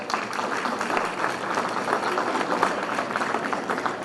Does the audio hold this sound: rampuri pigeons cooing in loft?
no